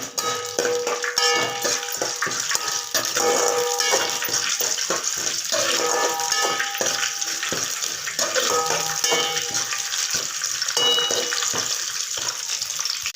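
Chana dal, cumin and chillies are sautéed in melted ghee in a pan, with a steady sizzle and occasional stirring, close by; faint tonal background sounds run underneath throughout.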